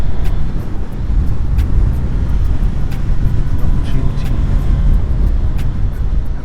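A Suzuki GSX-S1000 motorcycle drives along the A537 Cat and Fiddle road, its engine a loud, steady roar over heavy wind rush, while overtaking a car, with no talking heard.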